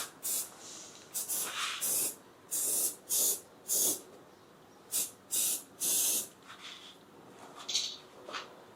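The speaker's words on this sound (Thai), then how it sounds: "ตอนนี้เราก็กำลังเชื่อมสเปรย์วานิชนะคะ กันรั่วกันสนิม สองฝั่งนะคะ" Spray varnish hisses from a can onto a repaired air conditioner coil, applied for leak and rust protection, in about ten short bursts of varying length, close and fairly loud, with no talking.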